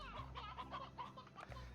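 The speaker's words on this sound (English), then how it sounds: "We've got so much fucking chicken." Chickens in the Slime Rancher video game cluck in a quick, steady run of short pulses, close and fairly loud over a constant low background drone, with no speech.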